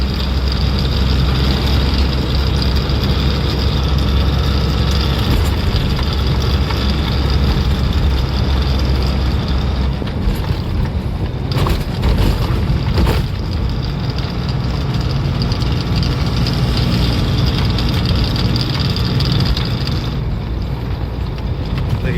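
The engine of a cargo truck carrying an export load drones loudly and continuously as the truck rolls along a rough, rutted road. Bumps and rattles come in intermittent rumbles near the middle.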